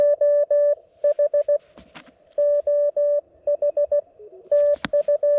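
Bursts of clipped digital radio tones from a nearby Winlink station break into a portable low-power CW park activation on an LNR Precision MTR-4B, coming in loud, rapid packets with short gaps and crackling static between them.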